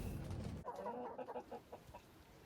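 Hens kept in a polytunnel over winter give a short run of soft, close clucks, faint and uneven, a few separate calls spaced over two seconds.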